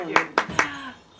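A sparse audience at a poetry reading claps: three distinct, fairly close claps in quick succession, fading into a voice speaking.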